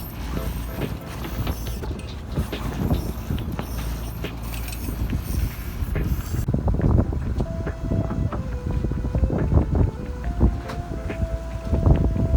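A sailboat glides along the north shore of Santa Barbara Island in steady wind, with continuous gusty wind noise buffeting the microphone and a broad rush of water, loud and unbroken throughout.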